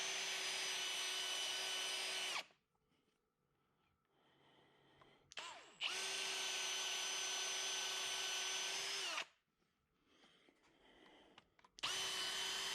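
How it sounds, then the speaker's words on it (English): A power drill fitted with a Forstner bit bores holes in elm pieces, running loud and steady in three separate bursts with quiet handling pauses between them. "I just took a Forstner bit, found the center of each piece roughly, and drilled a hole deep enough that the magnet would fit in there and fit flush."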